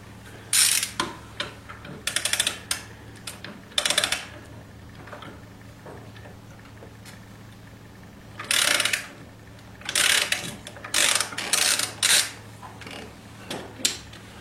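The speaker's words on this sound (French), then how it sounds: "éventuellement comme nous un cliquet équipé d'une douille de 17" Ratchet with a 17 mm socket loosening the variator nut on a Yamaha Aerox/MBK Nitro scooter, clicking in short repeated bursts at close range with quiet pauses between strokes.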